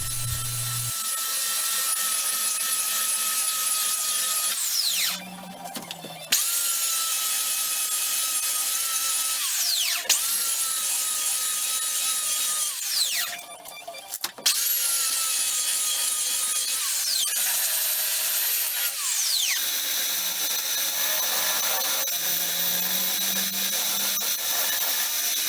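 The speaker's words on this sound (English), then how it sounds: "I strapped them together, put them in a vise and just sanded around them." Scrap wood pieces strapped together and clamped in a vise are sanded around with a power sander, a steady loud abrasive whine running throughout with brief dips and pauses between passes.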